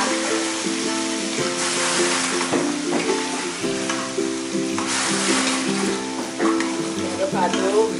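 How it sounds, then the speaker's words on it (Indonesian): Jengkol frying until crispy for a very spicy dish, stirred continuously in the pan, a loud close sizzle with scraping spatula strokes and faint tonal background music. "Aduk aduk biar garing"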